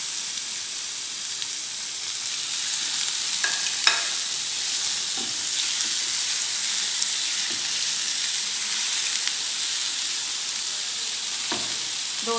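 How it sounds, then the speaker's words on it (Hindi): Carrots frying in oil and sugar syrup give a loud, continuous hissing sizzle, with occasional stirring scrapes and bubbling pops throughout. "दो से 3 मिनट तक इन्हें हम इसी में फ्राई करेंगे"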